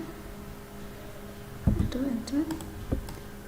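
A single Enter key pressed on a computer keyboard, heard as a few sharp close clicks amid soft, low speech.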